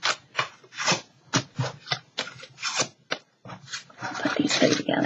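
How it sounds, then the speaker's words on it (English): A run of quick, rasping scrapes as a scissors blade is drawn along paper strips to curl them, repeated in short bursts with small pauses between. "Almost like curling ribbon"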